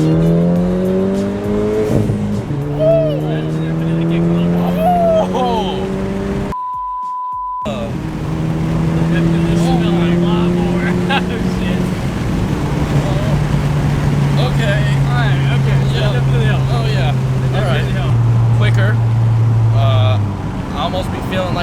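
A 10th-generation Honda Civic Si engine with a PRL catted downpipe drones and revs through its gears, the exhaust note rising and falling steadily, loud and close, with a brief dropout partway and occasional voices.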